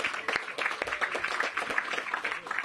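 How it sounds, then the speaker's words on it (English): A small outdoor crowd at an affordable senior housing groundbreaking gives a round of applause, with scattered claps and the murmur of voices underneath. "Let's give that a round of applause"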